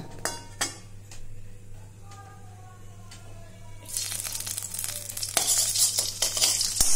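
Ginger paste is stirred in hot oil in a pan for a Bengali dal, with metal scraping and clinking against the pan and a sizzle that grows louder and brighter in the second half; no one speaks.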